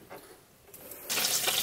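Water flushing from a hose through a Jaguar V12 engine's cooling system: a faint trickle at first, then a louder steady gushing stream of water, close by and with no talk.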